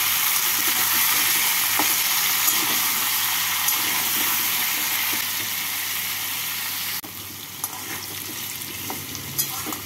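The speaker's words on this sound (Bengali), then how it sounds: "কুমড়োগুলোকে লাল করে ভেজে নিচ্ছি।" Pumpkin pieces fry in oil in a pan, a dense, loud, continuous sizzle close up that drops a little in level partway through, with faint stirring taps.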